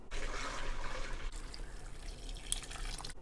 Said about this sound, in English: Pour the liquid through a strainer.